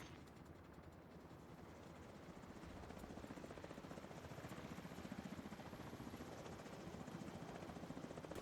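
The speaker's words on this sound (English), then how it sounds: "Already sent a helo with reinforcements." A helicopter in The Division 2 video game gives a continuous, rapid rotor thrum with engine drone, steady and fairly faint throughout, rising slightly in intensity midway with no voices over it.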